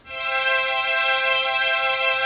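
An ARP Omni synthesizer string patch with its waveform enhancement switched off, a steady bright sustained chord with rich even harmonics, held alone at constant loudness with no voice.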